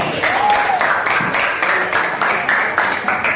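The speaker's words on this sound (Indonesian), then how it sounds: "Oke, kita tepuk tangan sudah lari" A class of junior high school students claps together in a teacher's lesson, loud and fairly close, with scattered voices mixed into the applause.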